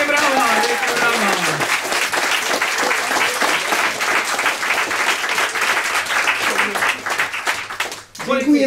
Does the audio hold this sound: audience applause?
yes